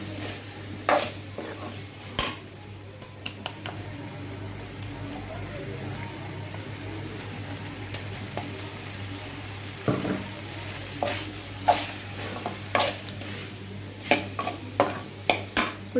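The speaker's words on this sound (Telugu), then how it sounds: "ఇప్పుడు ఇంకా ఒక 2 నిమిషాలు ఫ్రై చేసుకుందాం." Pepper chicken fries in a pan with ground pepper, fennel and cumin while a spoon stirs it, giving a steady sizzle broken by sharp scrapes and clinks against the pan, which come more often toward the end; no one speaks.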